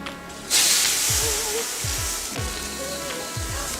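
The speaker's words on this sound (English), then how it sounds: "So I'm rinsing down my wok." A hot wok rinsed with water, a sudden loud burst of sizzling and hissing steam that continues steadily, with a few scraping knocks of the wok.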